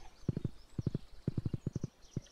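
A fat horse in Stardew Valley trots in short bursts of quick, crisp hoof clops, three or four steps per burst, over faint game ambience.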